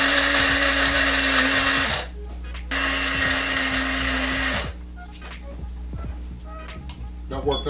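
An electric spice grinder whirs loudly through black pepper, thyme and dry spices in two steady bursts, stopping briefly between them, followed by quieter clicks and rattles.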